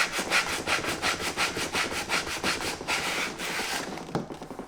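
Sanding the outer edge of the sole on a Lucchese 2000 Roper leather boot makes a close, rhythmic rasping rub with a dozen or so quick back-and-forth strokes, steady and fairly loud, ending with a soft knock, with no talking.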